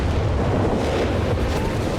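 An incendiary artillery barrage in Company of Heroes 3 pounds the target in a dense, continuous roar of overlapping low booms and crackling bursts, loud and unbroken, without any speech.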